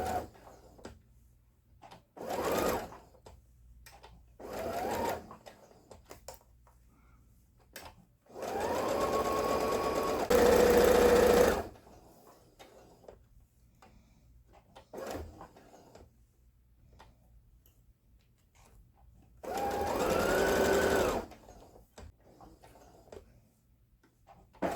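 A sewing machine runs in several short and longer bursts while stitching around a stuffed animal, with quiet pauses between runs where the needle is repositioned; close and clear, with no talking.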